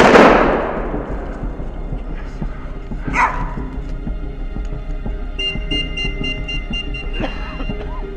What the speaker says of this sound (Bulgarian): Страни от нас проехтяха няколко изстрела и второ прасе бе повалено от ловеца.